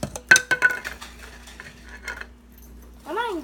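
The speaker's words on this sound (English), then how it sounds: "I'm adding a tablespoon of borax over here." A spoon clinks and scrapes against a plastic container while a tablespoon of borax goes in for crunchy Orbeez slime, a few sharp taps at first, then lighter stirring scrapes and a brief rising squeak at the end.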